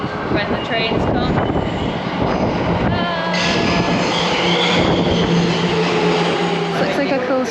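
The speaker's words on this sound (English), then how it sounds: "When the trains come." A train passes along a busy street in the Asakusa area of Tokyo, a sustained rumbling roar with shifting tones, while people talk over it.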